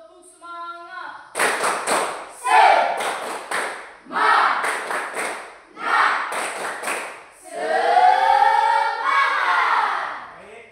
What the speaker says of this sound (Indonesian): Ulang. Tepuk semangat.